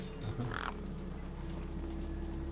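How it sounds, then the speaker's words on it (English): Crows cawing in the video game Beyond a Steel Sky, a short burst of harsh calls near the start over a steady low ambient hum. "The gang birds were eyeing up the corpse hungrily."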